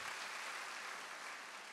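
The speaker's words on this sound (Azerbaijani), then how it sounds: "Alqışlayaq" A dense wash of audience applause at a concert in the Heydar Aliyev Palace, Baku, steady and sustained throughout without any voices on top.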